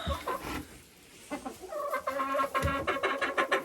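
A hen in an unheated coop cackles loudly and repeatedly after laying an egg, with bursts of harsh clucking, a brief lull, then a denser run of calls close by.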